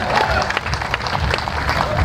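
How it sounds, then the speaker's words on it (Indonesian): Applause from an audience at a Kei community gathering in Papua marking a 44th anniversary and Christmas celebration, a steady dense patter of many hands with crowd noise and some talk mixed in, fairly loud throughout. "Tepuk tangan yang meriah"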